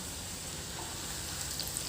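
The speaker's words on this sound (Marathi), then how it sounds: "पुढे टाकायचं डाळ 1 वाटीभर, ते पण थोडंसं तळून घ्यायचंय" Dal (lentils) fry in hot oil for chivda, a faint continuous sizzle and hiss with no talking.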